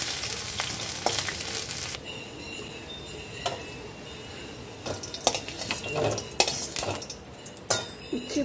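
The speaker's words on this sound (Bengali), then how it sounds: "এবার আমি তেল গরমের মধ্যে দেব।" Small fritters fry in hot mustard oil, a steady low sizzle under repeated stirring and clinks of a utensil against the pan, near and moderately loud, with no voices.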